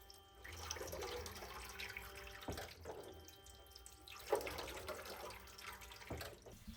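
Tap water runs steadily into a darkroom sink as a gold-toned photographic print gets its first wash, a close, continuous splashing with a few louder gurgles and no talk.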